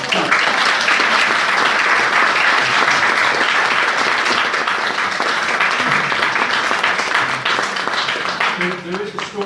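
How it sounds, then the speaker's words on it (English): A church audience at a farewell party for a reverend gives a round of applause. It is loud, dense clapping from a large crowd that keeps going for the whole stretch, with some voices mixed in. "we should just give her a round of applause for what she's done"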